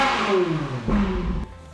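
A Ferrari 458 engine revs hard and close, its pitch sweeping up then dropping and climbing again before cutting off sharply near the end, loud and alone with no talking.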